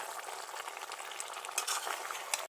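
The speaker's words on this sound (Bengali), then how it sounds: "তো এখন বেগুনগুলো দিয়ে দিচ্ছে দেখতে পাচ্ছেন এক এক করে। তো এখন নাড়াচাড়া দিয়ে দিচ্ছে এপাশ ওপাশ করে।" Eggplant pieces fry in a pan of oil and are stirred, a steady sizzle broken by scraping and tapping of a utensil, ending abruptly.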